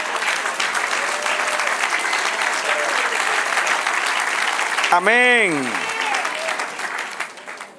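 A church congregation breaks into sustained applause for the Lord, a dense wash of clapping from a large crowd, with a voice calling out briefly over it near the end.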